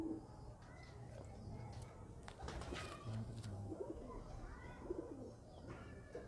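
Pigeons of a fancy show breed cooing in soft, repeated low calls close by, with a steady background murmur and occasional faint chirps throughout.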